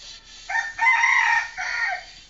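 A rooster crows nearby, a loud drawn-out call in a few rising and falling segments, with nothing else around it.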